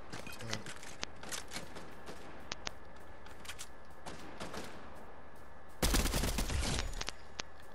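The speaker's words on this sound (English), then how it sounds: "Getting shot at." Gunfire in the Fortnite video game: scattered sharp single shots crackle through the clip, then a dense, loud burst of rapid fire erupts near the end before a few last isolated shots.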